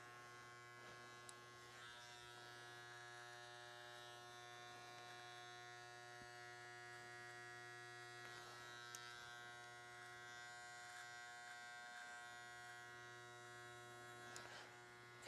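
Electric hair clippers buzz continuously while shaving upward along the neck during a short clipper cut, a steady, close electric drone with slight shifts as the blade moves over the skin.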